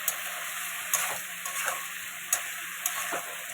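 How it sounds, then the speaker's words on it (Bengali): Ginger, garlic, cumin and chili paste frying in a pan, a continuous close sizzle with a few spoon scrapes and light taps against the pan, no talking. "আর জিরা বাটা দিয়ে এবার একটু কষিয়ে তারপরে আমি পাতাটা দেবো"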